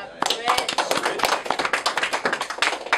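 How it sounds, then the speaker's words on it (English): A small group in an office gives a round of applause, with quick, uneven, fairly close hand claps lasting a few seconds. "We should do this round of applause"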